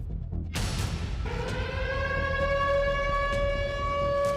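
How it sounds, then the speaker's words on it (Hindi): Air raid siren wailing over Kyiv, Ukraine, a sustained loud rising then steady tone that starts abruptly and holds throughout, with no voices. "यूक्रेन में खतरे का सायरन गूंजते ही यूक्रेनी एयर डिफेंस ने मोर्चा संभाल लिया था"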